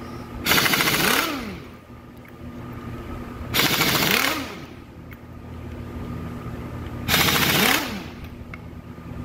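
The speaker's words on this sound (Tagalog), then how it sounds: "Pero meron ako dito back drill. Yan. Na gamitin ko." Power drill on Isuzu 4HG1 steering box bolts: three loud bursts of whirring, rattling impact each lasting about a second, separated by quieter engine-like idle hum, close up with no talk.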